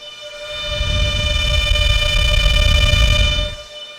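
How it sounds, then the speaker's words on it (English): A steady, loud mechanical whir of the fans of an Antminer L9 cryptocurrency miner with a high-pitched hum swells up, holds, then fades, with no talking. "it is a pretty loud miner"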